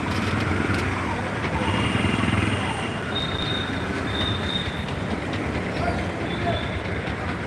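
A train passes along the railway line in front of Sainik Club at night, a loud, continuous close rumble of wheels on track with thin metallic squeals rising over it.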